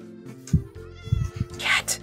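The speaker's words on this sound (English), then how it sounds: "Cat!" A cat in the Minecraft video game meows several times in quick, short calls, with a higher-pitched mew near the end, heard against steady game background tones.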